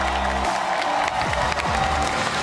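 A large crowd at the Red Bull Home Ground 2024 esports finals claps and cheers loudly and continuously for the champions, with voices and music mixed in beneath the applause.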